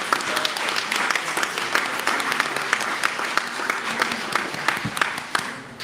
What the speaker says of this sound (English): So I think just one more round of applause.